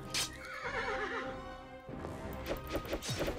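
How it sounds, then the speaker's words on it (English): A crazed horse boss in the indie video game Path to Valhalla lets out a loud, wavering whinny, followed by clattering hoof-like game sounds and impacts, with no talking over it. "He's just a crazy horse who spawns zombies."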